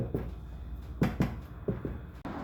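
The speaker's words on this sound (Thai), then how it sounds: "เราก็ทำการเคาะไล่ฟองอากาศสักหน่อย" A chiffon cake pan filled with pandan and young coconut batter is knocked against a surface to release air bubbles, giving five dull, close thumps, mostly in pairs, with no speech.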